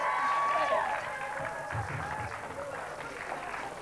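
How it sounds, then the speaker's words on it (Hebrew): Studio audience applauding a school team on a 1997 Israeli TV quiz show, a moderate wash of clapping that carries through the whole stretch while a host's voice talks over it. "מחיאות כפיים קודם כל לבית ספר."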